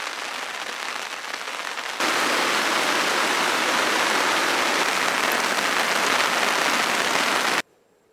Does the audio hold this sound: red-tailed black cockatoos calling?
no